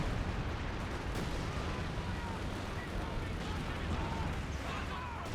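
A distant artillery barrage rumbles in the World War II strategy game Company of Heroes 2, a dense, steady wash of overlapping blasts and crackle, fairly quiet and continuous throughout.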